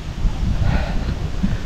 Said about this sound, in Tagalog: Lakas pa rin ng hangin ngayon mga kautol, oh.